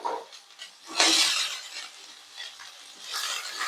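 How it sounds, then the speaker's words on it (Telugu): Two onions tipped into a pan of mildly spiced oil with cardamom and bay leaf, frying for a makhana masala curry: a sizzling hiss that swells sharply, eases off, then rises again near the end, with no talking. "ఇప్పుడు ఒక 2 ఆనియన్స్ వేస్తున్నానండి"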